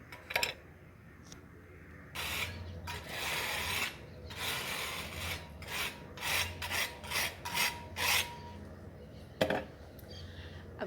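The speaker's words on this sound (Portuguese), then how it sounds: "Aí eu vou usar uma espátula." A spatula scrapes across mortar to carve wood grain marks, a quiet series of short rasping strokes that speed up into a quick rhythmic run of scrapes, heard alone.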